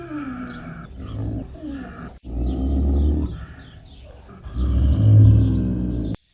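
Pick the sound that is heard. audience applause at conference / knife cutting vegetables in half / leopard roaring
leopard roaring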